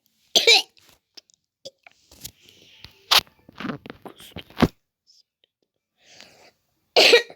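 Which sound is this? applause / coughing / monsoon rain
coughing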